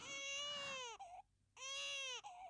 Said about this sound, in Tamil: மேல குழந்தை அழுகிற சத்தம் கேக்குது?